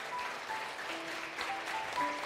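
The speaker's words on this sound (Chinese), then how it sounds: "拍手感谢主" A church congregation claps together during a Sunday worship service, a dense, steady wash of applause that keeps going with no break, with faint sustained tones sounding underneath.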